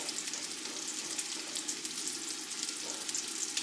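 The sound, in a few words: carrots frying in a pan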